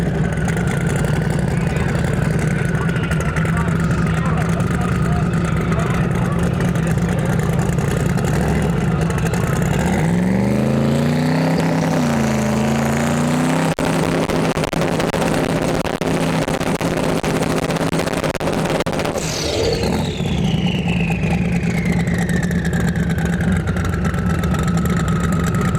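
A 1972 Plymouth Duster drag car with over 2000 horsepower makes a pass at Sick Week, its engine droning loudly before a rising, wavering surge, a brief cut and a falling whine.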